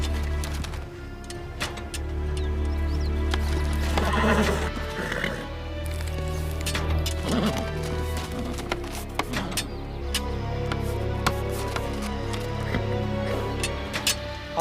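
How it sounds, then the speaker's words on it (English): Horse whinnying amid a busy outdoor scene, a loud neigh rising over constant background noise with occasional hoof clops and bird coos mixed in. "We gotta feed the horse."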